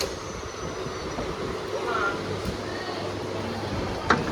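A train rolls into a station, a steady rumbling rail noise with faint wheel hiss and a brief clank near the end, heard from on board.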